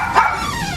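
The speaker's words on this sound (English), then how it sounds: "You can hear the dogs bark," A single short dog bark close by, loud and sharp, followed by a brief fading tail.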